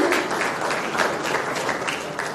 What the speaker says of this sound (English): You deserve a round of applause, ladies and gentlemen.